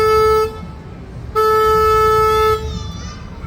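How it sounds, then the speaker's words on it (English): A river tour boat's horn sounds two loud, sustained blasts close by, a steady tone with a brief gap between them over low engine and water rumble. "As in case there's any cross traffic here, I have to honk the horn."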